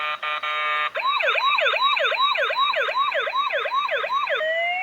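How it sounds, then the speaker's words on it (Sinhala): A toy ambulance with flashing lights plays its siren up close: a brief steady electronic buzz, then a loud wailing yelp that sweeps up and down in quick even cycles. "ඒ ඇම්බියුලන්ස් සද්දෙම මේකෙන් එනවා"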